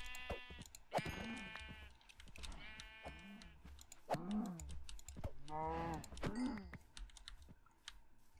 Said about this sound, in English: Oh, another sheep.